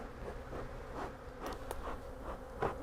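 Honey bees buzzing in an opened hive, a steady close drone with occasional louder passes as individual bees fly near, over a soft background hum.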